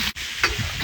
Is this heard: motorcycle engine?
no